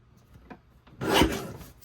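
A piece of patterned paper is trimmed on a paper cutter for a scrapbook page kit, a brief close rasping slice after a couple of faint taps, with no talking.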